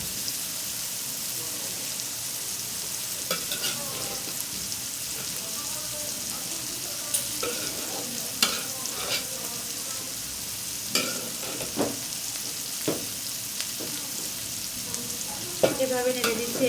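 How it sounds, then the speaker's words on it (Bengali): Red spinach fries in a pan with onion and garlic while being stirred, giving a soft, steady sizzle broken by repeated scraping and tapping strokes of a utensil. "এভাবে নেড়ে দিচ্ছি এই কারণে যাতে দ্রুত সেদ্ধ হয়ে যায় শাকটা।"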